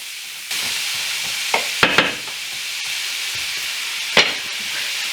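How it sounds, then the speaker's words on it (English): Onions and celery sizzle steadily in a pan of bacon fat, seasoned with salt and pepper, a loud continuous frying hiss that flares a few times as a utensil stirs, with no voices over it. "Dump in my onions and my celery and some of my salt and pepper."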